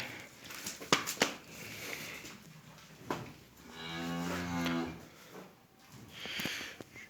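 A cow on a farm, close to calving, moos loudly and nearby in a couple of drawn-out calls, with faint shuffling and handling noises in between.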